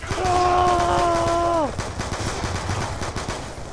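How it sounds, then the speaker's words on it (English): Gunfire in a Black Ops 2 domination match: a steady electronic tone gives way to a rapid run of sharp pistol shots that keeps going to the end. "pistol fights"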